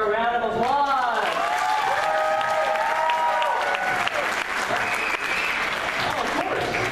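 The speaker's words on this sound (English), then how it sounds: "please give her a round of applause" A magic show crowd breaks into sustained, loud applause, with cheering voices and whoops rising over the continuous clapping.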